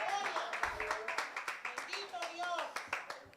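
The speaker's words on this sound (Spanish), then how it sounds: "Póngase de pie y denle un aplauso al Señor." A church congregation at a worship night claps in a steady, rhythmic beat, the sharp hand claps ringing out over singing voices and music.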